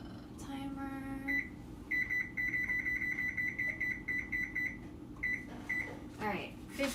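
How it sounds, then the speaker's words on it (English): A kitchen timer emits a steady series of short, bright electronic beeps in rapid pairs, repeating over several seconds at a moderate distance, with faint background room noise and a little handling sound. "Timer."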